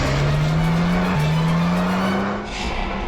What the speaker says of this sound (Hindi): पीछे यूटर्न लो ना और यहाँ दाईं ओर से निकालो गाड़ी